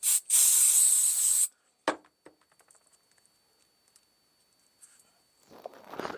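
CA glue activator sprayed from an aerosol can during a knife build, heard as one loud hissing burst of about a second and a half, followed by small clicks and handling sounds.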